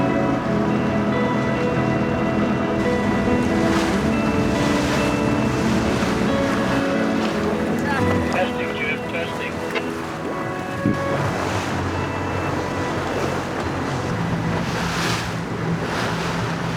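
Waves lap and splash against a racing sailboat's hull on the Severn River and Chesapeake Bay as wind rushes steadily past, with creaks and rigging sounds over a continuous watery wash.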